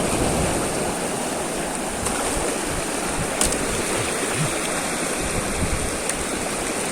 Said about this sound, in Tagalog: Lumapit lang ako, lumakas ang alon eh.